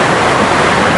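The Alibek waterfall in Dombay roars as a loud, dense, continuous rush of falling water heard from close range, filling everything with no voices.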